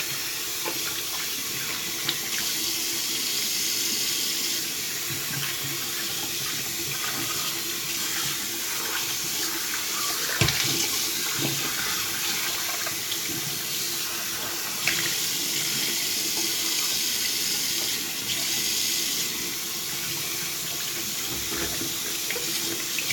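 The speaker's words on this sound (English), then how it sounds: "I'm gonna rinse off real quick." A tap runs steadily into a sink while someone rinses off after shaving, a continuous close hiss of flowing water with small splashes and shifts in the stream throughout.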